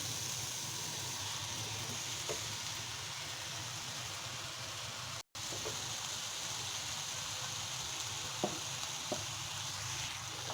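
Cooked rice tipped into a hot frying pan for chicken fried rice, giving a faint, even sizzle that runs steadily with a brief dropout midway and a couple of small clinks.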